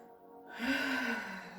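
A single drawn-out breath during a lymphatic-system exercise routine, audible and close, rising sharply then tapering off gradually, with no talking over it.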